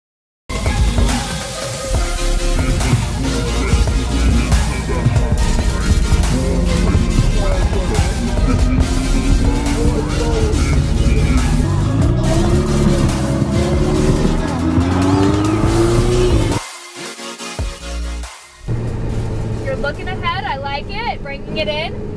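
A Ferrari 458 Italia pulls out onto a race track, its engine loud and close with rising revs across a long pull, then a sudden drop and pause before the roar resumes; voices talk over it.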